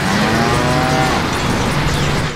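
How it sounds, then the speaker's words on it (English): A cow moos in the Deadpool video game, a drawn-out low call sitting over a dense, loud wash of game noise for a couple of seconds. "What? A cow?"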